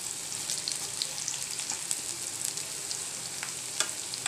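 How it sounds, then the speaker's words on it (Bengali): Onions fry slowly in a pan, turning brown, with a continuous soft sizzle and scattered crackles and pops close by. No voices are heard. "পেঁয়াজটাকে আমি আস্তে আস্তে ভেজে নিয়েছি"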